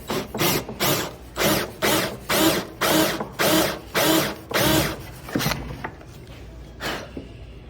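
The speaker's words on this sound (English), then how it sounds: "So I just got a 1/2 inch Forstner bit here. I'm just gonna pop it in the center." A drill drives a 1/2 inch Forstner bit into wood in repeated short bursts, about nine close, loud whirring pulses with brief gaps, then quieter scattered clicks as it stops.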